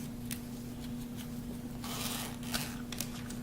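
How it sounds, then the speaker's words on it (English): A zipper on a sewing pattern piece for a Kwik Sew 3209 collar is pulled open in a few short, quiet rasping bursts, close by, over a faint steady hum. "I'm going to open the zipper now."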